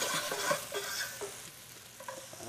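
Apples cooking in a pan, a soft sizzle with rhythmic stirring and scraping of a utensil against the pan, close and fairly quiet.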